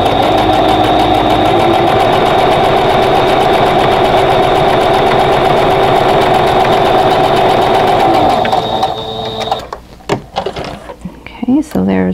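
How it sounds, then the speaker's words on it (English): A sewing machine stitches a friendship quilt block with a steady, loud, continuous whir for several seconds, then stops, leaving short clicks and handling noises. "give myself a little slack on the thread and sew down the other"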